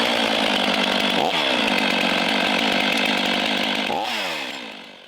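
A Stihl 500i chainsaw clears small limbs around a dangerous tree, roaring loud and close at high revs, with two brief dips in pitch as it bites, then trailing off at the end.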